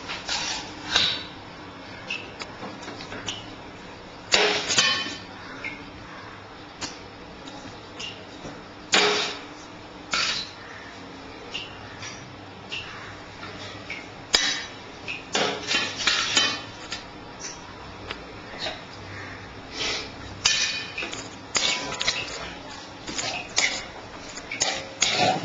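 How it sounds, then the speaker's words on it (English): Cooled cooked rice being stirred into yengai, a stuffed brinjal curry, with a spoon in a pot, giving repeated close scraping, clinking and soft stirring sounds in irregular bursts, no talk. "I add this rice to the yengai and mix it"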